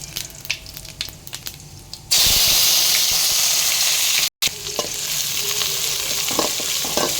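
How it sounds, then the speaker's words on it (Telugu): Mustard seeds, cumin and curry leaves hit hot oil, and after soft clinks a loud, steady sizzle erupts and fills the rest, briefly cut off once before carrying on. "ఆయిల్ హీట్ ఎక్కాక ఆవాలు, జీలకర్ర, కరివేపాకు తర్వాత వేసుకోవాలి."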